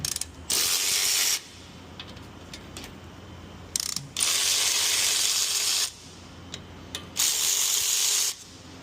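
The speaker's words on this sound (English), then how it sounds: "take out the two 13mm bolts that are right here" Ratchet wrench loosening the two 13mm caliper bolts on a 2011–2014 Ford F-150 front brake, three sustained buzzing ratchet runs close up, separated by brief pauses and light clinks, no talking.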